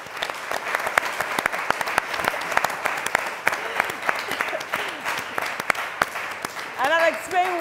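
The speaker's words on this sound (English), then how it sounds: "I would like all of you to give her a round of applause" An audience breaks into sustained applause, a steady wash of clapping with a few sharp individual claps, lasting several seconds while someone speaks faintly underneath near the end.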